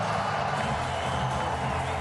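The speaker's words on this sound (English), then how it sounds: "Fakhar Zaman with a diving catch. The crowd erupts." A stadium crowd roars steadily after a diving catch by Fakhar Zaman in the Pakistan vs Sri Lanka cricket final, a dense, continuous wall of cheering and whooping that stays loud and sustained throughout.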